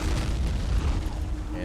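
Cannon fire and explosions in the World War II strategy game Men of War: Assault Squad 2, with an anti-tank gun shooting at a vehicle, form a loud, continuous rumble of deep booms throughout.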